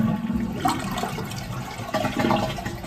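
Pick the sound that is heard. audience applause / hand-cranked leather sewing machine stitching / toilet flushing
toilet flushing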